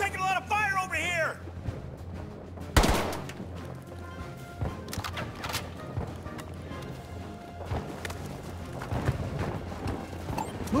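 Battlefield 2042 combat: a loud sharp crack sounds near the start, then scattered gunshots and impacts pop against a noisy battlefield background, with a voice heard briefly at the opening.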